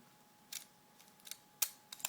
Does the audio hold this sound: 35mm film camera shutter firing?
yes